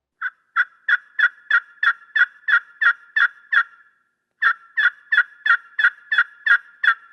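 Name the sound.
slate friction turkey call played with a striker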